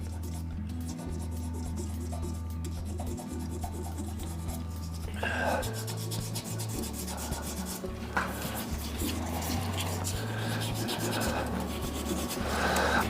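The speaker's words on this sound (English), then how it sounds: "we'll just give that a sand up till it goes dull" Sanding of a burl and resin shaving brush handle, with steady rasping strokes running continuously throughout over a low background hum, a little louder and grittier in the second half.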